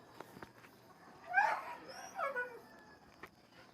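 An injured dog that cannot walk, with a hurt paw, whimpers in two high, whining bursts, close by, with faint background noise between them and no talking.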